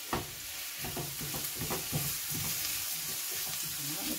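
Vegetables frying in a pan as they are stirred, a steady sizzle with soft repeated scraping strokes of the spoon, close and moderately quiet, no talking.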